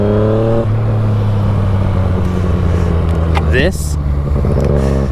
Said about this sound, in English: First ride on my FZ-09 here.